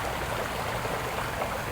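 A small river flows steadily through a park, giving a continuous, even rush of moving water with no breaks and no voices.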